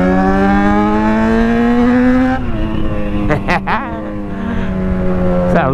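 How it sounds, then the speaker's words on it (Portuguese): A Yamaha XJ motorcycle exhaust holds a loud, high rev that drops off sharply, followed by several sharp crackling bursts and brief revs, close and dominant over wind noise. "Estralando tudo escape."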